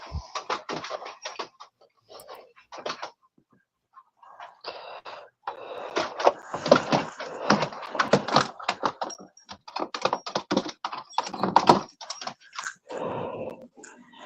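Someone types on a computer keyboard nearby, producing a long run of brisk key clicks in irregular bursts with short pauses between them, and nobody speaks.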